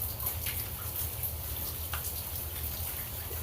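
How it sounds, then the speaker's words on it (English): Soft, steady patter of light rain with a few scattered drips standing out, continuous and fairly close, with no voices. "this rainstorm that's light, falling just perfectly"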